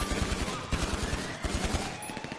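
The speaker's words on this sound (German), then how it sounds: "Aua, ich krieg hier Schüsse ab." Rapid automatic gunfire in the video game Grand Theft Auto Online, dense rattling bursts of shots continuing loud and close throughout.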